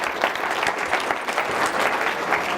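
A room full of people claps loudly for themselves, a close, thick wash of hand claps that stays strong and steady throughout.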